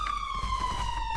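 A steady police car siren from GTA 5 holds a slowly falling tone over low engine rumble for about a second, close and continuous.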